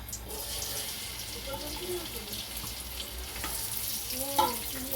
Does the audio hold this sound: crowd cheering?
no